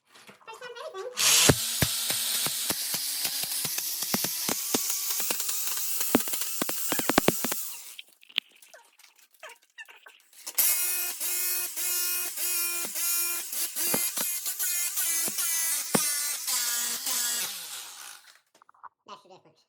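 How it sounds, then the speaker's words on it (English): A jackhammer breaks up a bathroom floor in two long, loud bursts of harsh rapid hammering separated by a brief pause, close by, with a faint voice in the gap. "You've never done a jackhammer before, now let's see."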